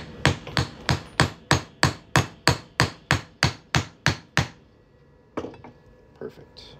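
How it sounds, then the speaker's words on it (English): A rapid, even series of about fifteen sharp metallic hammer strikes close up on a half-ounce fine silver coin being made into a ring, then a pause and a few scattered softer taps and handling noises. "We're just gonna hammer that on through."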